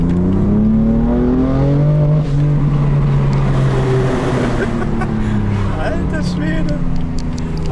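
A mint-green 2017 BMW F82 M4 Competition LCI with 450 hp and an M-Performance rear exhaust revs loudly and continuously, its pitch rising and falling. Excited talk runs over the engine throughout.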